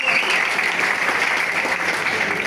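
An audience at a televised debate panel claps steadily and loudly, a dense, even wash of applause that holds without break for the whole stretch.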